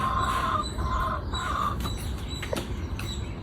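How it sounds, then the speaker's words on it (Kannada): Hens with their chicks on a family farm, clucking and cheeping in short, repeated calls against a steady outdoor background, with a faint flutter of wings partway through. "ಅಲ್ಲಿದೆ ಕೋಳಿಗಳು ಮತ್ತು ಅದರ ಕೋಳಿ ಪಿಳ್ಳೆಗಳು"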